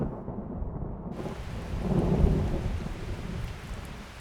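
Heavy rain pours steadily during the rainy season as a low rumble of thunder swells and fades beneath the dense hiss, with no voices.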